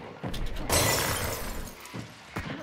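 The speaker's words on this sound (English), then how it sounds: "You ever just walk through a plate glass window?" A plate glass window shatters in the Hunt: Showdown video game with a sharp, bright crash followed by tinkling debris. Softer impacts and footsteps come after it, fairly close and moderately loud.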